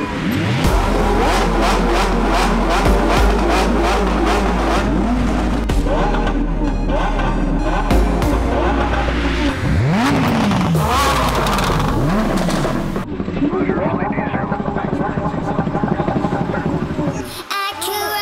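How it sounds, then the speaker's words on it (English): Several car engines fire up and rev hard, roaring and rising in pitch over each other, loud and close, before one cuts out near the end. "All the cars are about to start up"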